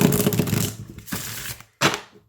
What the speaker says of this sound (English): Let's see how they shuffle.